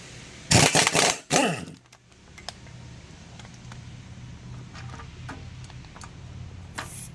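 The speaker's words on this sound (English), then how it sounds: "We're going to loosen this bolt right here." A wrench working the 13 mm timing belt tensioner bolt on a 2008 Suzuki Forenza 2.0L gives two loud, close bursts of ratcheting clatter early on, then only faint ticks and light handling noise over a low hum.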